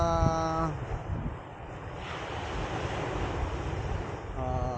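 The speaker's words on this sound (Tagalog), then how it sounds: "Gagalit yung alon." Rough ocean waves at Eco Park in Agoo, La Union, a continuous roar of surf with wind buffeting the microphone, a brief tonal engine-like hum at the start and end.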